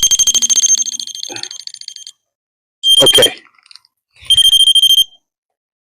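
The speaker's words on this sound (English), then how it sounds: "I got a RAM pod right here. If a spirit touches it, you just see it turns on. It's going to beep like that." A REM pod ghost-hunting sensor set out in a cemetery gives loud, shrill electronic beeping in three bursts: a rapid pulsing run, then two shorter tones after brief silences. A voice speaks one short word.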